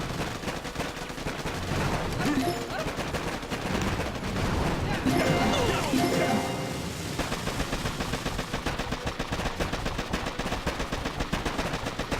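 Rapid machine gun fire in the mobile strategy game Boom Beach, dense and continuous across the whole stretch, layered with other battle noise at a steady, fairly loud level.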